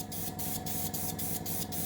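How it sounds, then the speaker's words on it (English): Spray paint hisses from a can onto a model of the Russian Navy Project 955 Dolgoruky submarine, a close, continuous hiss that pulses in short rhythmic bursts. "I'm spraying onto the line."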